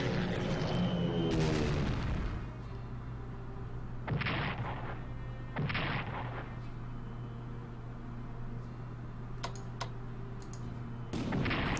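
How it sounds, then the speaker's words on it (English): Artillery bombardment in the Strategic Command World at War strategy game: a few loud booming blasts spaced several seconds apart over a low steady hum, with sharp clicks near the end. "Let's bomb them."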